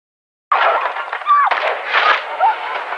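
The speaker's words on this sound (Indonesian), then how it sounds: "kali ini si Jody yang terkena tembakan di tangannya hingga ia terjatuh." Gunfire in a scene from the 2017 sniper thriller film Downrange, where a roadside victim is shot in the hand: sudden loud, sustained shots and blasts breaking in after half a second of silence, dense and close, without any talk.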